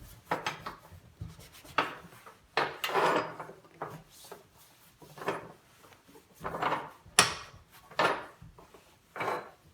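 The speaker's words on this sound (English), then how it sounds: "I'm just going to use this dry cloth to wipe it all down and dry it" A dry cloth wipes down a slightly damaged stovetop, giving a series of soft rubbing and scuffing strokes with a few light knocks, close and moderately quiet, with no talking.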